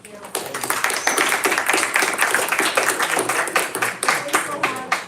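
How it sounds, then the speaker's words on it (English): A small group claps together, brisk scattered applause that holds steady for several seconds, close and fairly loud. "We gave Christabel and John applauses"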